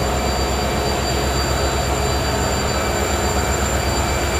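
A Kannur Express waits at platform 6 of SMVT Bangalore station, filling the air with a loud, steady, broadband rumble and hiss that holds without break and has no talk over it.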